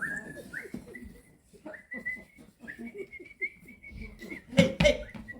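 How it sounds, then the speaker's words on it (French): A man whistles a tune alone, a run of clear sustained notes with short pauses between phrases, close by and fairly soft, with a brief louder burst of noise near the end. "quand je suis tout seul, en général, je siffle"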